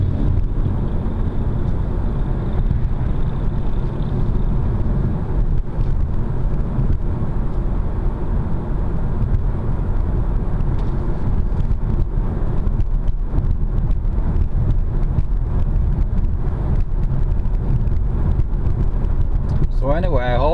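A car cruises at speed along a country road, its engine and tyre rumble droning steadily and close, with wind noise building toward the end and a person talking over it.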